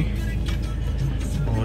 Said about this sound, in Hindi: गाड़ी हो चुकी है स्टार्ट अपनी